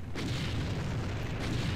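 Deep, continuous booming artillery fire in the real-time strategy game Empire Earth, loud and rumbling throughout a battle with tanks attacking, with no voices over it.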